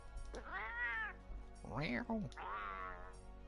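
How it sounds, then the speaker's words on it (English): An angry palico cat from Monster Hunter World meows in a rising-and-falling snarl three times in close succession, loud and near, with a low growl-like tone in the middle call. "That's an angry cat. That's a cute little cat."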